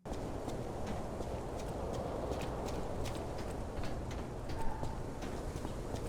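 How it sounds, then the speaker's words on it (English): Rainy bridge in the video game Lies of P, with steady wind and rain noise throughout, scattered wet footstep clicks and faint distant dog barks blending into the ambience. "As you're walking on this bridge, you feel the wind blowing, hear dogs barking, and hear wet footsteps from the rain"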